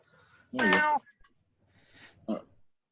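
A house cat meows twice indoors, a clear drawn-out meow followed by a shorter, softer one, close to the microphone with quiet pauses between.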